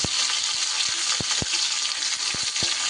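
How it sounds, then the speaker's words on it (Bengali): Broad beans frying in a pan give a dense, continuous sizzle throughout, punctuated by a few sharp crackles and pops. "শিমটাকে একটু সুন্দর করে ভাজতে ভাজতে"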